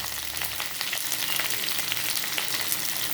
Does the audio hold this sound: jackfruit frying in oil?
yes